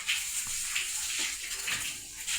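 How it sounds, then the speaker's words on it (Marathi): Water is sprayed over silage made as fodder for cows, a faint, continuous hissing spray with slight surges and no talking. "भरपूर असं पाणी मारते आता"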